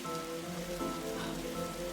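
Rain patters steadily on a car, a soft, even wash of drops with no voices heard.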